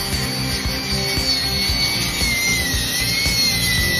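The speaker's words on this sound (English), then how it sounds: "Grinding really good actually with a piece of sandpaper." An Arbortech mini grinder fitted with sandpaper sands wood with a continuous high whine and steady abrasive rasp, loud and close, with its pitch shifting slightly as pressure changes.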